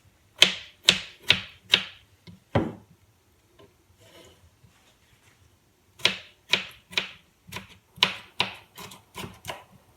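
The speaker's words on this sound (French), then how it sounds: "de la même façon comme j'ai coupé le poivron, comme ça." A knife dices a bell pepper sharply on a cutting board in two quick bursts of crisp taps, separated by a few seconds of near silence.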